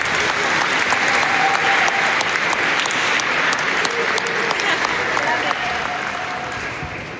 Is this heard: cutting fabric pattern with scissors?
no